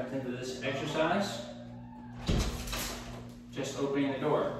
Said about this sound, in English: Just opening the door.